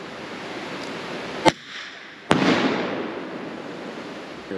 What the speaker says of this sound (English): Oh, he's still shooting though.